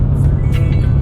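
Nissan 370Z with a full titanium Tomei exhaust, a loud close engine drone with deep low rumble and brief raspy bursts, heard alone.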